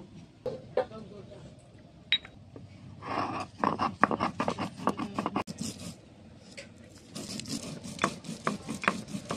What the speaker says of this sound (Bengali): এবার জিরেটাকে বেটে নেব